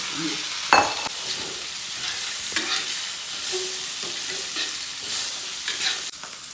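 Dried radish and cured pork stir-fried in a wok, a steady close sizzle broken by irregular scraping and tossing strokes of the spatula, with a sharp clatter near the start and a brief pause before the end.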